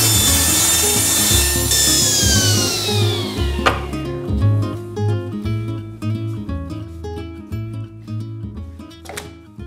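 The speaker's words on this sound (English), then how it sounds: "I'll just cut the last strip for this rocker now." A wooden strip being ripped for a rocking chair rocker in a fine furniture workshop, with a steady power saw cutting loudly and continuously up close, the pitch shifting as the blade bites, and no voices.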